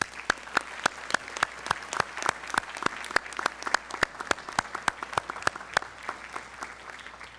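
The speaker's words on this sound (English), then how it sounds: "Please join me in giving your parents and your family a huge round of applause." A graduation ceremony audience gives scattered, rhythmic applause: distinct sharp claps ring out steadily throughout, moderately loud and fairly close, with no voices over them.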